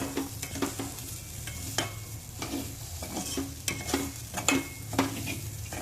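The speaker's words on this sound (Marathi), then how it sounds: "आता हे तांदूळ व डाळ या फोडणीमध्ये छानसे दोन ते तीन मिनिट भाजून घ्यावे" Steady sizzling of rice and mung dal roasting in tempering in a hot pan, with repeated scraping strokes of a spoon stirring, close and continuous.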